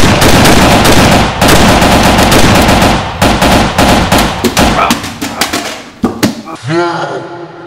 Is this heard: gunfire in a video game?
yes